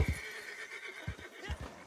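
A horse in Red Dead Redemption 2, driven through a lake, lets out a whinny among heavy hoof thuds and splashy stomps, close and fairly loud over a short burst.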